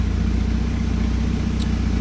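A turbocharged old 8-valve Volvo engine running on a dyno, giving a steady, close mechanical drone with a fast pulsing rhythm throughout and a small high-pitched tick near the end.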